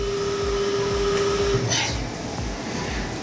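A 3D printer runs steadily at close range, giving a loud, continuous whirring motor drone with a steady tone that breaks off partway through.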